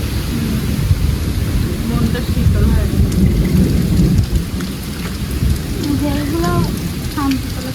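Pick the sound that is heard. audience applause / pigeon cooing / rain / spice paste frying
rain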